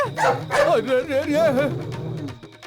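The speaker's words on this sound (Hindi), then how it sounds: "कुत्ता है बे?" A dog barks and yips in a quick run of sharp, loud calls close by, with whimpering tones mixed in, in an Indian action film scene.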